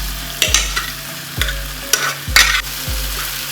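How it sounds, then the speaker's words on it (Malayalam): Barley and biryani ingredients sizzle in a pan while a spoon stirs them, giving four or five distinct scraping, clattering strokes over a steady close frying hiss. "ഇതെല്ലാം നല്ലപോലെ മിക്സ് ചെയ്യാം."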